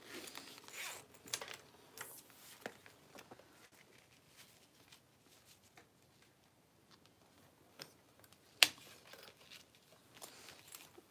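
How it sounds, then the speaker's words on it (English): A zipper handled during the sewing of a small bag: scattered soft rasps, crinkles and ticks, close and mostly faint, with one sharp louder click near the end. "Okay, so we're adding the other side of the zipper now."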